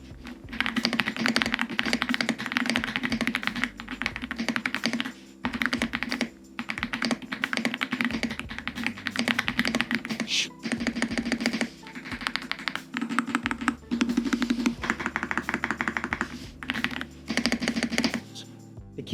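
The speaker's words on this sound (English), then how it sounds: "The keyboard overall just sounds amazing." Rapid clacky keystrokes on a mechanical keyboard, close and crisp, in continuous bursts with brief pauses between typing runs.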